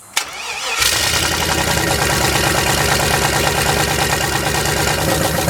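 A Ford Festiva with a turbocharged LS engine cranks and catches, then settles into a loud, steady idle with a rhythmic low chug that continues to the end.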